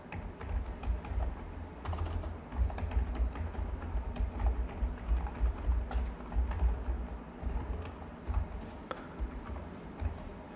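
Fingers type on a computer keyboard while entering data into an Excel spreadsheet, producing steady, soft, rapid key clicks throughout with no talking.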